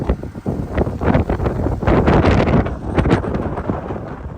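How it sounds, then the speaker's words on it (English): Strong winter storm wind roars and buffets against a camper van driving down the road at about 35 mph, a loud, dense, continuous rush with gusty swells and no speech. "Hear that wind."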